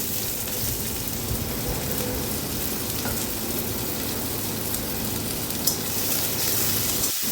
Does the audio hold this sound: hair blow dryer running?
no